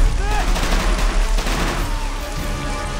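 Rapid, dense bursts of machine gun fire roar continuously in the video game Men of War: Assault Squad, a loud chaotic barrage of automatic weapons with explosions mixed in.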